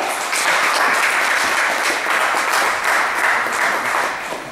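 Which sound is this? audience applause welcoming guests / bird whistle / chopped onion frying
audience applause welcoming guests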